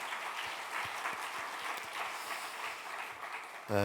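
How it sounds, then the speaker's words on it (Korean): A church congregation at a Wednesday worship service claps steadily and evenly, a dense wash of many hands that holds at the same level before a sudden louder burst at the end. "우리 모든 영광 하나님께 박수를 올려드립니다"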